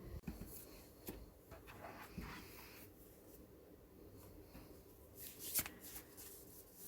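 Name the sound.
shuffling tarot cards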